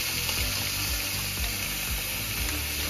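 A salted and peppered steak sizzles in a hot pan, giving a steady, dense crackling hiss of frying that holds evenly throughout with no talking.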